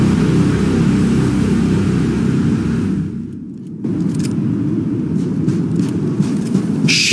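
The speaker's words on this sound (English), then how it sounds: "Is that a helicopter?" Low, steady rotor-like rumble of a helicopter in the zombie game World War Z, droning continuously at close range, dipping briefly midway before resuming, with no talking.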